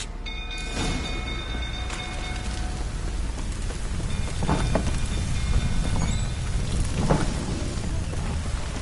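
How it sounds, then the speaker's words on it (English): Steady rain hisses down around a burning stable in The Witcher 3, a dense constant wash with a few low rumbles and crackles rising through it. "Looks like rain."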